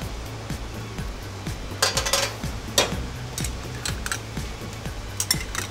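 Leeks and tomato paste going into a pot of roasted lobster heads, a constant low sizzle under repeated metallic scrapes and clinks of stirring, close up with no talk.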